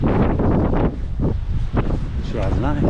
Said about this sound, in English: Walks into the wind today.